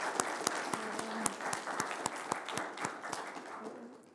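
An audience at a machine learning conference workshop claps for the organizers, a modest round of scattered individual claps with distinct sharp hand strikes over a softer wash, fairly close.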